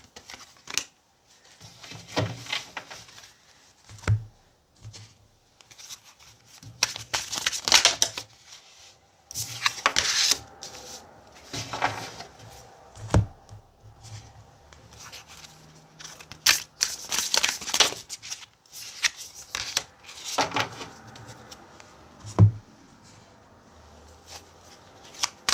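Tarot cards are handled, shuffled and flicked close up, giving irregular bursts of crisp riffling and papery slaps separated by quiet gaps over about twenty-five seconds.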